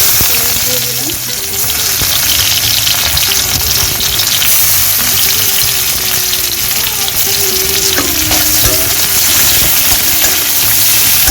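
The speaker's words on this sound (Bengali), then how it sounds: "পেঁয়াজটা ভাজা হয়ে গেছে" Onion fries in hot oil in a pan after fish has been fried, making a loud, close, continuous sizzle with occasional stirring scrapes.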